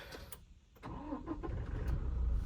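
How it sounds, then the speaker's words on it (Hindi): A Toyota Innova Crysta 2.4 diesel is push-button started with clutch and brake pressed: a brief quiet starter crank, then the engine catches into a low, steady diesel rumble that builds toward the end. "जब हम स्टार्ट करते हैं पुश बटन स्टार्ट आ जाता है इस वेरिएंट में"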